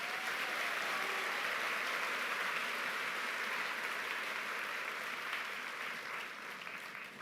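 An audience at a high school commencement gives the symphonic band a long, dense round of applause that holds steady and then gently tapers off.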